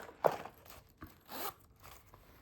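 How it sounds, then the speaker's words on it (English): A short, soft zipper pull on a small leather Louis Vuitton key pouch followed by a second faint zip, quiet and close, with light handling noise in between. "The zipper on this is so much smoother"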